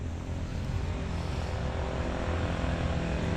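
A parked motorcycle's engine hums steadily with a continuous low rumble and broadband noise throughout, fairly close, with no voices over it.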